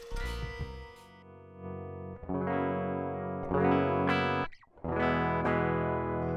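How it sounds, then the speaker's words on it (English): An electric guitar plays clean through an amp-in-a-pedal with no reverb or delay, sustained chords and single notes ringing out at a moderate level with brief gaps between phrases. "I've turned the reverb and delay off, and this is clean sound straight into the door"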